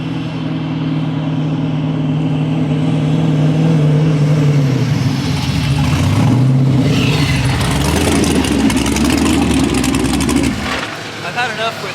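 Nitrous-fed race car engine at the Texas Mile, a loud droning roar that builds and shifts pitch as the car approaches, then drops away abruptly near the end.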